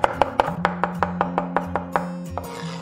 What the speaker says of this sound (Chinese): 然后再剁成蒜末。